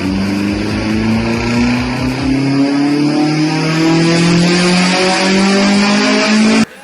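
A Toyota AE86 with a high-compression 16-valve small-port 4AGE engine revs loud and close, its pitch climbing steadily in one long pull before cutting off sharply at the end.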